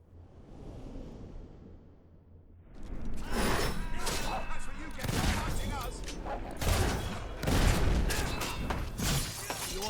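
Mortar fire in a Fable 3 battle: loud, repeated booming blasts and crashing impacts arrive in clustered bursts after a quieter opening, with voices and battle noise between them.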